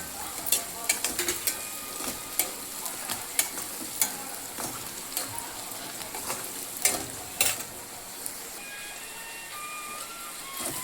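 Onions fry in hot oil toward golden brown for a brinjal and green pea curry, a steady close sizzle broken by sharp scraping stirs and clinks of a spatula against the pan, with no voices.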